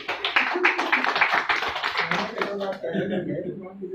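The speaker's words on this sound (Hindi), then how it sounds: "ताली दो बजा दो।" A roomful of people clap together at a business income seminar, a dense, quick patter of hand claps that fades after a couple of seconds into voices.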